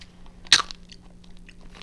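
A single sharp crunchy bite into a piece of dried meat with a crisp, bacon-like texture, up close and alone, followed by quieter chewing.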